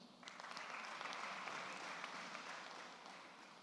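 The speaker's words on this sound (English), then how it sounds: "Please clap for him" An audience claps steadily and fairly loudly for about four seconds to welcome a managing director at a leaders program commissioning ceremony, the sound a dense even patter with no talk.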